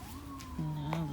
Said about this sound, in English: now the sirens are coming as I'm talking